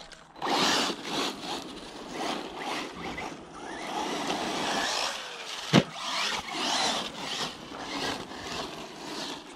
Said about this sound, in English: Tough little car with no ground clearance.